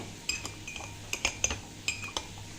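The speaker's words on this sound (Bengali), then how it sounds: "তো আমি চার পাঁচ মিনিট এভাবে চামচ দিয়ে বিট করে নিয়েছি" A spoon beats instant coffee with a little water in a cup, giving quick, uneven clinks and taps of metal against the cup over a steady low hum, close and fairly quiet, with no one talking.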